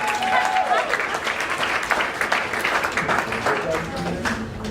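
A comedy club audience in Birmingham applauds comedian Pieter Mol with steady, dense clapping, joined by whoops and scattered voices that ride over the noise.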